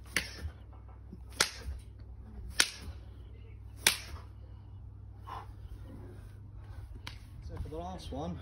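Sharp hand claps from clap push-ups land at irregular intervals, loud and close against a low steady background hum, and a voice speaks near the end.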